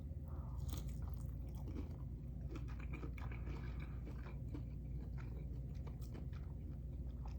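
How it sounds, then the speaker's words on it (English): Loud, close biting and crunchy chewing of plain, unbreaded seasoned shrimp pulled from a large shrimp sandwich, continuing steadily throughout with no talking. "I'm just gonna try the shrimp on its own."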